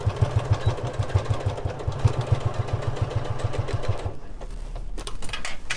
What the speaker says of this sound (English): And bring it round back to your sewing machine.